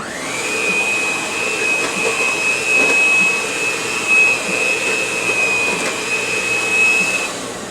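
An electric mixer whips potatoes with heated milk and butter in a pot, a loud continuous motor whine with a steady high-pitched tone, running close and unbroken for several seconds with no talking.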